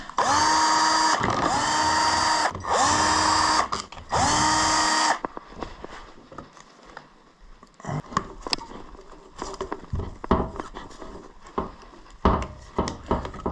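A power tool whines in four sustained, close bursts while unscrewing 8 mm screws from a Honda Zoomer 50 radiator, followed by clattering handling of parts and screws.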